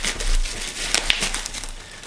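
Tiny iPhone packaging is sliced open with soft crinkles, scrapes and a couple of sharp clicks, close and quiet, with no voices.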